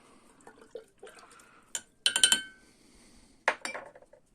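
Stirring a watch-cleaning solution in a three-liter glass jar: scattered clinks and liquid swirls, with a louder burst of rapid taps around the middle and another near the end, close and fairly quiet.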